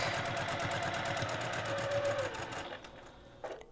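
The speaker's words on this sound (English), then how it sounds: "now it's just sewing this around really quick" A sewing machine stitches around a passport cover in a fast, even run of close mechanical chatter, then stops near the end with a brief clunk.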